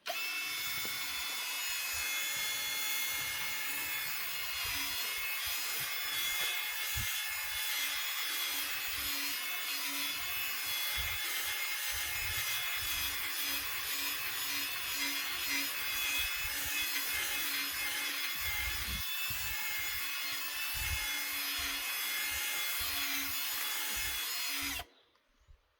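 A 3000 grit pad sands a 2003 Ford Fusion headlight in a steady, continuous abrasive rasp that holds loud and even before cutting off abruptly at the end.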